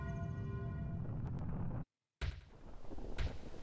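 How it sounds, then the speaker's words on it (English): Fireworks bursting at midnight in The Legend of Zelda: Majora's Mask, a dense, loud crackle of game explosions with a brief silent gap before the booming resumes, no talk over it. "Fireworks are going."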